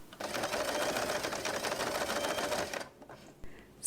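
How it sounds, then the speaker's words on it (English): A sewing machine stitching along twice-folded fabric for a scrunchie on the free arm, a steady rapid mechanical whir running continuously for almost three seconds before stopping abruptly into near silence with a small click. "Take this to the sewing machine."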